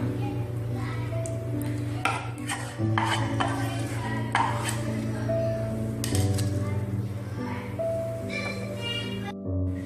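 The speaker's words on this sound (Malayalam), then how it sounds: "ഈ ക്രീമും കൂടെ ഇട്ടിട്ട് നമുക്ക് നന്നായിട്ടൊന്ന് ബീറ്റ് ചെയ്തെടുക്കാം." Homemade frosting cream with cooked milk-flour paste is beaten in a bowl, making rhythmic scraping and clinking strokes throughout over steady background music.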